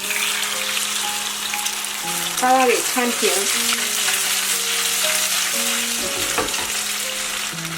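Egg-coated tofu fries in plenty of cooking oil in a pan with a steady, close sizzle throughout, broken by a few scraping stirs of a spatula while someone speaks briefly.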